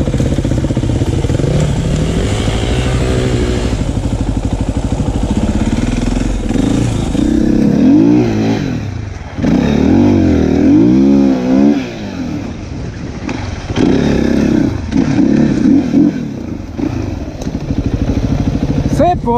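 Enduro motorcycle ridden off-road at an easy pace with bursts of throttle, a loud close engine drone that rises and falls through revs the whole time, with a voice talking over it.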